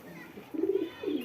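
A pigeon coos softly nearby, two low throaty coos in quick succession against a quiet background.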